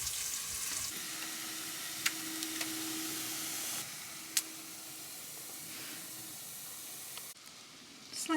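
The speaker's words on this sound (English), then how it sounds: "We've got some red onion and cumin and some red cabbage to fry up with that." Red onion, cumin and red cabbage fry in a pan with a soft, steady sizzling hiss, broken by a few sharp pops and clicks before the sound cuts out near the end.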